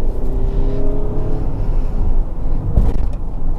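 A Toyota Vellfire accelerating on a road after a roundabout, with a steady, fairly loud engine and road drone throughout and a brief louder thump near the end; no talking.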